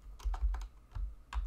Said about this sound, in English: just type in the ID you gave your image tag